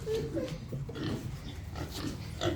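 Pigs on a small farm grunt and oink continuously, close by and fairly loud, eager for horse treats, with low rumbling snorts layered under higher squealy grunts throughout.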